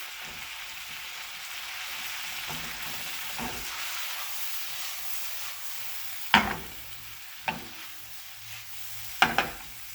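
Spinach sizzling in a pan, a steady hiss with a few sharp crackles and clicks of stirring toward the end, close and fairly quiet.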